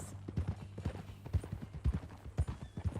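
Horses clop along at a walk, hooves striking in an uneven, repeated rhythm close by, with faint background noise and a brief snort.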